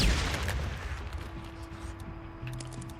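Gunfire in the video game Days Gone: a loud blast opens, then the noise decays into a lingering rumble with scattered faint pops and a steady tone beneath.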